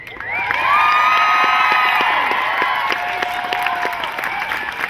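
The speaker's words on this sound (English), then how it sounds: "and for that, we applaud him" A crowd at a rally at the California State Capitol in Sacramento bursts into loud applause and cheering, with high shouts and whoops rising over sustained clapping before it slowly eases.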